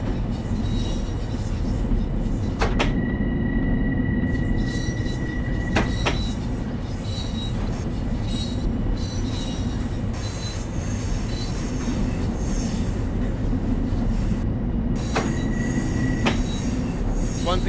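A high-speed train running in Train Sim World 3 gives a steady, continuous rumble of rolling wheels and motors, with two sustained high-pitched tones or squeals, one near the start and another near the end.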